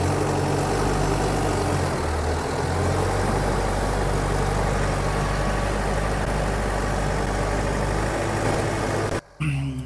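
A Guard World WD 754 tractor engine runs steadily at a low, heavy idle-like drone for nearly ten seconds, cutting out abruptly near the end.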